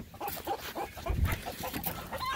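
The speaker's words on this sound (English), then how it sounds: "Them chickens will eat anything." Farm chickens cluck in short, busy bursts nearby, a few overlapping calls at moderate loudness with no speech.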